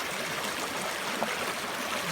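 A creek runs beside a meadow trail with a constant close rush of flowing water and no voices.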